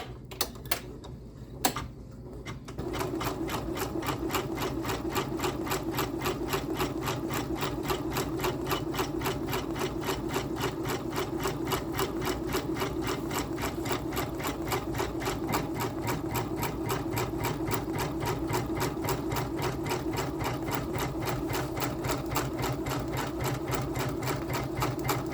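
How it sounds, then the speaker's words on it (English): A Janome MB4/MB7 embroidery machine stitching trapunto runs at slow speed, a steady rapid mechanical clatter of needle strokes that starts after a few quiet seconds and continues evenly, close and alone. "I have my machine going slow"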